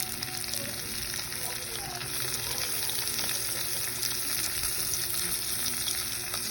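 Onion and garlic sauté in hot oil for a chopsuey, a dense, continuous crackling sizzle close to the pan that holds steady for several seconds with no talking.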